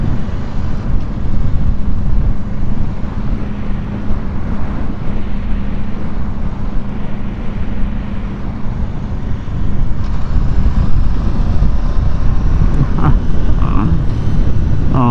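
An Aprilia RSV4 Factory motorcycle runs at full throttle, heard as a loud continuous roar with heavy rushing wind from the rider's position, holding steady throughout with no voices.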